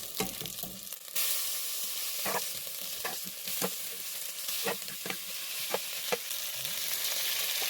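Raw meat sizzles loudly as it hits a hot frying pan, a steady bright hiss with repeated utensil scrapes and clinks as it is stirred; no one talks.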